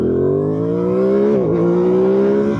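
An Aprilia Tuono 660 Factory motorcycle at full throttle, its engine note climbing steadily and loud close by, with a brief dip mid-pull like a shift before rising again.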